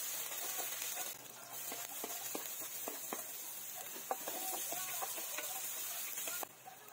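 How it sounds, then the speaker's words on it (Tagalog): Ginger, garlic and onion sauté in a pan with a faint, steady sizzle, broken by soft crackles and scattered clicks of a utensil against the pan. "Gigisa lang tayo ng luya, bawang at sibuyas."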